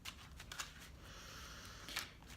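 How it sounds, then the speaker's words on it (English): A deck of cards being shuffled during a small spring blessing ceremony, quiet crisp riffling flutters repeating across the moment, fairly close but low in level, with no talk over it. "So I'm shuffling our cards."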